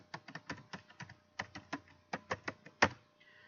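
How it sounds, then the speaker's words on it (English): Computer keyboard keys tapped quickly while entering a Wi-Fi password, a brisk run of about twenty soft clicks ending with a firmer final keystroke, close and quiet with no talk. "I'm gonna type the password."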